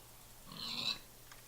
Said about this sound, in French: Et j'entends encore des cochons.